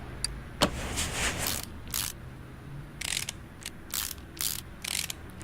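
A new drive axle snaps into place in Car Mechanic Simulator 2018, heard as a run of sharp mechanical ratcheting clicks and whirring bursts, close and alone without talking.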